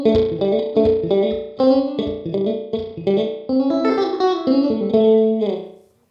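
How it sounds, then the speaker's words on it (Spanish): Electric guitar chords run through a Boss DD-3T delay pedal with the feedback turned up, each strum trailing clear stacked repeats that blur into a spacious wash before fading out at the end. "Vamos a agregarle un poquito más de feedback para que se sientan más esas repeticiones."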